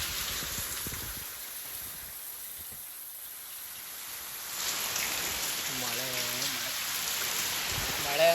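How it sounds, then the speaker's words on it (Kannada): Heavy rain pours down steadily as a dense, even hiss that swells louder midway, with a brief voice rising over it near the end. "ಮಳೆ ಅಂತೂ ಬಿಡಂಗೆ ಇಲ್ಲ ಗೈಸ್, ಆ ರೇಂಜಿಗೆ ಮಳೆ ಐತೆ"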